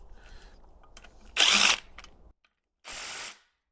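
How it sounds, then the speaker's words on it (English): A power tool removes perimeter bolts from the housing of a 2014 Nissan Altima CVT transmission (JF016E), giving two short, loud bursts of whirring separated by quiet pauses, close up. "Removing all these bolts on the perimeter of this housing here."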